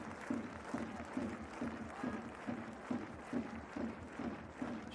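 Stadium crowd at a J2 League football match between Yokohama FC and Albirex Niigata, applauding a players' handshake: a steady wash of clapping and crowd noise with a rhythmic pulse, fairly distant and continuous, without clear talk.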